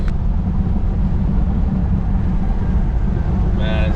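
A car drives steadily after repair work at a garage, giving a continuous, fairly loud low rumble of engine and road noise with no break, and a short tonal sound near the end.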